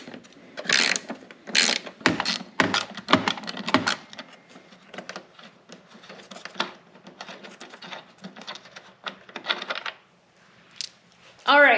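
Ratchet backing out 10mm bolts from a car headlight housing, a run of close, sharp clicking bursts with brief pauses between them, a few light metallic taps, and a short tonal whir near the end.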